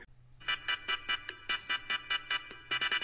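A cell phone rings in a quick rhythmic pattern of bright electronic tone bursts, repeating steadily and close by, with no talking over it.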